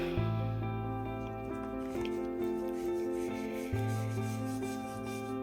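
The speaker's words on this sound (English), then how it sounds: "I'm gonna be very light in rubbing it off" Wet paper being rubbed gently off an image transfer on glass, a soft continuous scrubbing heard up close under a sustained musical background.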